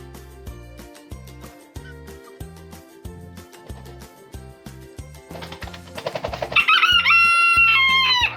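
A rooster crows once loudly and close by near the end, after rhythmic low clucking and thumping noises.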